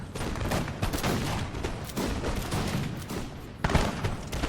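Musket volleys crackle in a Napoleon Total War battle: a dense, continuous fusillade of overlapping gunshots at steady loudness, with one sharper burst near the end and no voices.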